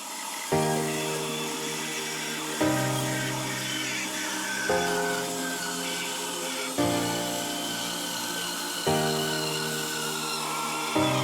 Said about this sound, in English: And now over to the bandsaw, where we'll cut them out and glue them together in a big blank